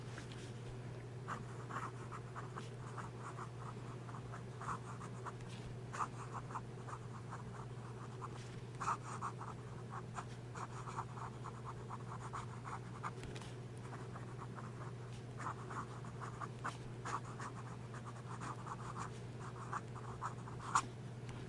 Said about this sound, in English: Turn this back over and we'll do some quick writing with the pen.